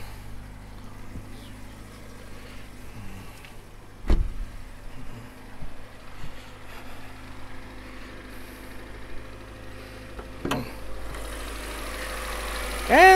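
A car engine idles quietly on a hybrid supercapacitor battery with the hood up, a low steady hum. Sharp knocks or clunks come near 4 and 10.5 seconds, and the engine sound swells slightly at the end.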